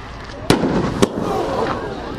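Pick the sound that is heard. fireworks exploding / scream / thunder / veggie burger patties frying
fireworks exploding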